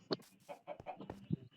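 Chicken clucking in the video game Minecraft, a quick run of short, choppy clucks and squawks, close and fairly loud, with no talk over them.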